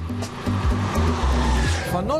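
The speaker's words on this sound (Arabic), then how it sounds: "يفضل الاستماع لنصيحة مصمم الخنفساء فيرديناند بورش بترك محرك بوكسر رباعي الأسطوانات صاخبا" The four-cylinder boxer engine of a classic Volkswagen Beetle convertible runs loud with a steady, throbbing drone of shifting tones, while someone narrates over it throughout.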